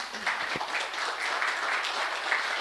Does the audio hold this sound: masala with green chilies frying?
no